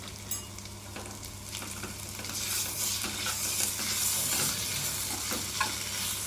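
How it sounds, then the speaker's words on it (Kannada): Liver frying with ginger garlic paste, a close, steady sizzle that grows louder midway, overlaid with repeated scraping and stirring of a spatula against the pan. "ಅದನ್ನು ಚೆನ್ನಾಗಿ ಫ್ರೈ ಮಾಡ್ಕೋಬೇಕು."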